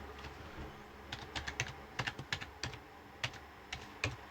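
Fingers type a password on a computer keyboard in a burst of quick, irregular clicks that bunch into clusters, close and fairly quiet, with no talk over them.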